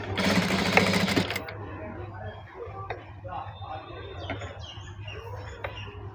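A sewing machine stitches waste cloth in a loud, steady whirring burst lasting about a second, then falls to a quieter background with faint scattered ticks and chirps.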